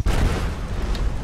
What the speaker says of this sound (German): Jetzt explodiere ich wieder.